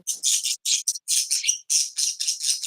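A pet bird squawks in a run of loud, harsh, close calls, about a dozen bursts in quick succession with short gaps, no talking over them.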